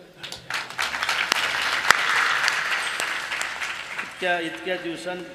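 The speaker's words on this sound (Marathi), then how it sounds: "टाळ्या वाजवल्या पाहिजे" A crowd at a kirtan claps steadily for several seconds, a loud sustained burst of applause that thins out as voices take over near the end.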